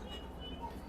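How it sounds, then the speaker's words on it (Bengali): A train pulling out of Siliguri Junction gives a steady low rumble with faint high squeals over it, muffled as if heard from on board, continuous through the brief moment. "এই শিলিগুড়ি জংশন থেকে ট্রেনটা ছাড়ছে"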